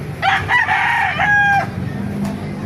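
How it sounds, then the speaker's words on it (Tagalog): An eight-month-old white Kelso rooster crows once nearby, a loud, drawn-out cock-a-doodle-doo in several rising and falling syllables, followed by a brief softer call over faint background noise. "May nakita tayo ito, napakagandang white kelso."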